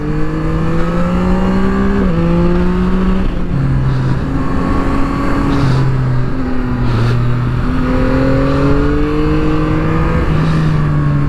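A Yamaha MT-09 SP motorcycle on the road revs hard through repeated rising pulls and gear changes, its engine loud and close with a steady rush of wind underneath.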